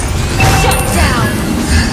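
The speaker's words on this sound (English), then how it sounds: "Your team destroyed a turret!" A turret crumbles in the Mobile Legends mobile game, a loud two-second burst of crashing, smashing game effects over a dense, continuous bed of battle noise.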